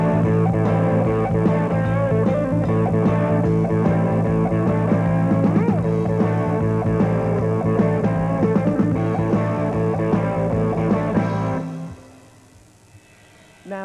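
A full rock band locks into a heavy metal boogie, a simplified blues shuffle with a triplet swing, playing loud and dense with sustained guitar and bass for about eleven seconds before cutting off abruptly into near silence.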